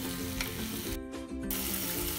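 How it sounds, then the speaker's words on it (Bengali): Masala paste for restaurant-style shahi paneer fries and gets stirred in a pan over raised heat, giving a steady, close sizzle with a brief dip in the middle; no one speaks. "এবার পুরো মশলাটা আমি ভালো করে কষাবো।"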